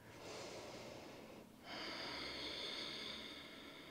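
A deep breath taken while holding a yoga forward bend: a soft, airy inhale and exhale close to the microphone, with a brief pause midway, and no talking.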